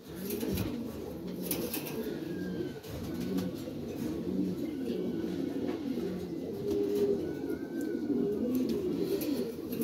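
Lahori pigeons, including red and golden dun males, coo steadily in a loft, overlapping rolling coos close by with a few faint chirps over a constant background hum.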